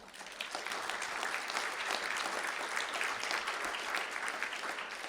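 An audience at a school board meeting breaks into sustained applause, a dense wash of many hands clapping at an even level for the full stretch, with no voices rising above it.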